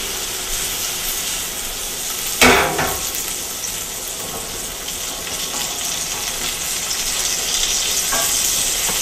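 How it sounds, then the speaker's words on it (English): Tomatoes fry in a pan with pepperoncino and pasta oil, giving a steady dense sizzle throughout, with a few sharp pops and spatters rising out of it, close and fairly loud with no talking. "That's the tomatoes popping."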